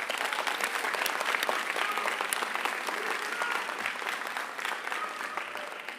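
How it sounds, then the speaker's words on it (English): A graduation crowd gives a warm round of applause for the graduates' families, dense continuous clapping from many hands, even and sustained for several seconds. "So please give your families a round of applause."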